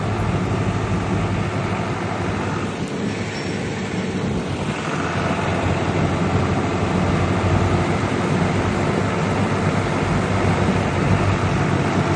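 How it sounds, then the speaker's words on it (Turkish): Tractor driving on a farm slope: a steady, continuous engine drone with a low hum and some wind rush persists throughout, fairly loud and unbroken. "Şu an traktör kendi aksına gidiyor."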